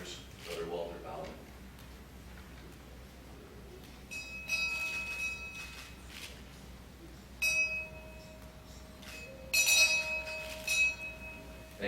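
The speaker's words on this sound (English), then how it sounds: "we're very privileged to have been allowed to ring the bell for one of our fallen brothers, Brother Walter Bowman." A memorial bell at a Day of Mourning ceremony in Hamilton, Ontario, tolls three times for a fallen worker, each clear strike ringing out and slowly decaying in an indoor hall, with some background shuffling.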